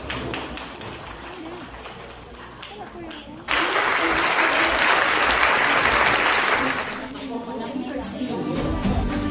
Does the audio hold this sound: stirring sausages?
no